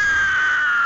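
During a Battlefield 1 match, a player's voice imitates a girl's shrill movie scream: one sustained, piercing, steady cry lasting under a second, loud and close with nothing else underneath.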